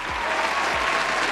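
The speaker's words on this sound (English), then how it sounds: "we want to give you a round of applause for supporting the show" A short burst of dense applause, crowd-like and steady throughout, with a couple of faint low thumps beneath it.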